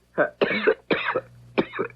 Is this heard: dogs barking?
no